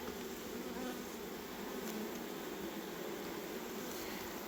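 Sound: honey bees being shaken out of a hive

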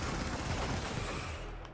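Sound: shotgun gunfire in video game Helldivers

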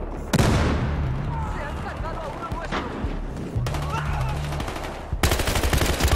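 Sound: gunfire in video game Battlefield Hardline

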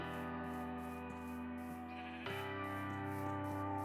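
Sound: sheep bleating in Minecraft (video game)

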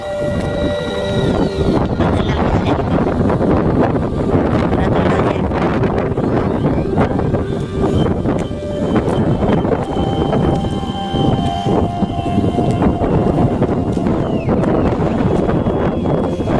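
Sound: strong wind blowing at Badami caves

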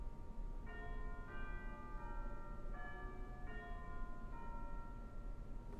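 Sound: chimes of 1930 Kimball theatre pipe organ

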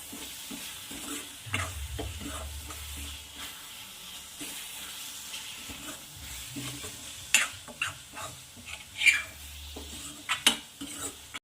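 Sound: stirring red chilli garlic chutney (thecha) in a pan

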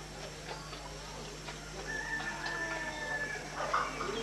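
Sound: chickens clucking and crowing

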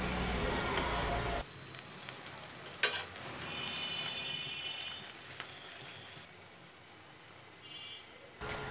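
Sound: onions frying and being stirred for pilaf beresta

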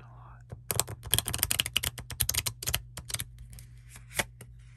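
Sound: shuffling a deck of cards

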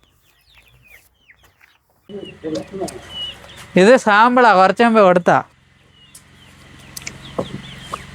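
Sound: chickens clucking on a poultry farm

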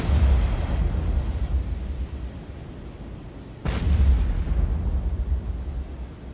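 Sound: submarine-game explosion, from Cold Waters video game

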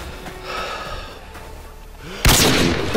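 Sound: gunfire in the video game Modern Warfare 2

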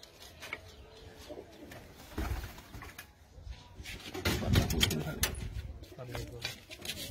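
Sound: pigeons cooing in a loft

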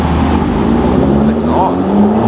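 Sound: sports car exhaust

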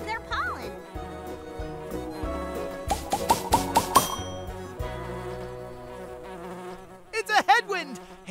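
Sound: bee buzzing in the Nature Cat Pollinator Pathway video game

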